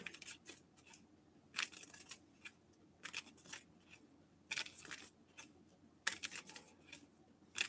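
Cards riffled and shuffled in quick crisp bursts, repeated several times with short gaps, close and fairly quiet, no talking.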